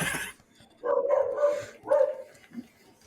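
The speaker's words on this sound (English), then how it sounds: "Sorry for the dog interruption." A dog barks and whimpers in a few short, fairly loud bursts close by, with a brief voice at the start.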